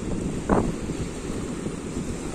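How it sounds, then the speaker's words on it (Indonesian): Steady wind and surf at Melasti Beach, Bali, wash over the microphone in a continuous roar, with one brief louder gust or splash near the start. "Suasana di Pantai Melasti."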